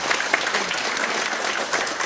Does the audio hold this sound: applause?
yes